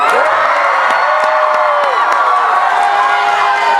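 A crowd cheers and whoops in a loud, continuous wash of voices as the Tallest, red and purple, teleport down, with shouts rising and falling throughout.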